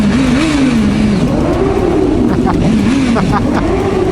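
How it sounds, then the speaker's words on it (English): A car engine revs repeatedly inside a tunnel, a loud, close, echoing drone that rises and falls in waves, with voices talking over it. "Listen to Taffy, rev bombing in the tunnel."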